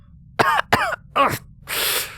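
A reader voices a fit of coughing: three sharp, close coughs in quick succession followed by a breathy, spitting exhale, with no other speech.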